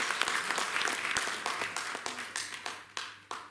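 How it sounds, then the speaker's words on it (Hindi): Applause from an audience at a political gathering, thanking two speakers. It starts dense, then thins into scattered, separate claps that fade toward the end. "इन दो स्पीकरों का एक बार तालियां बजाकर हम शुक्रिया अदा"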